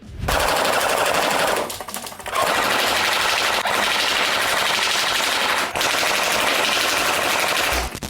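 Sustained rapid automatic gunfire, loud and close, in long bursts with a brief pause near the start; an A&K airsoft PKM machine gun rattling continuously with no voices.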